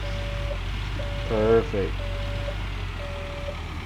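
Reversing beeps from a truck in Gold Mining Simulator, a steady repeating tone sounding roughly once a second over low engine rumble, with a brief spoken interjection midway.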